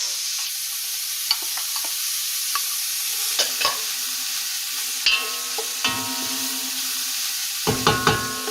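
Celery, onions and carrots cook in a pan for Bolognese sauce. There is a constant close sizzle, broken by scattered clinks and scrapes of a utensil stirring the vegetables.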